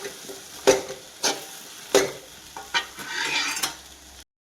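A spoon stirs potato poha in a pan after lemon juice goes in, giving several distinct scraping, clinking strokes close by over a faint background sizzle, with no voices.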